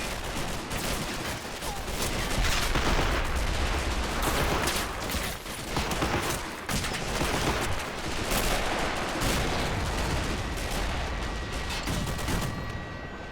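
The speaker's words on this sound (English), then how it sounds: "there's like just the sheer amount of rifle fire" Massed automatic rifle fire in a war video game during an amphibious beach assault, a dense, continuous crackle of many overlapping shots with occasional heavier booms, loud and sustained throughout.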